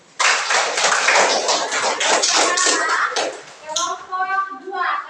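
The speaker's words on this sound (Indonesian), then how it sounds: "Kita tepuk tangan dulu untuk Isani." Children in a classroom give a student presenter a burst of applause, a dense patter of many hands clapping that fades after about three seconds into young voices chattering and calling out.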